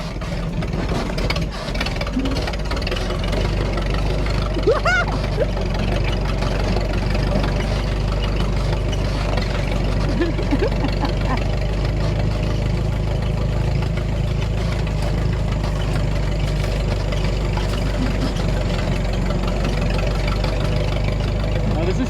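Engine of a small ride vehicle idling steadily at an outdoor historical society yard sale, a loud continuous low rumble with faint knocking, people talking over it.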